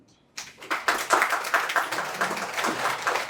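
Audience applause breaks out and swells into steady, dense clapping welcoming a guest speaker at a Qasim Ali Shah Foundation event, filling the room without any talk over it.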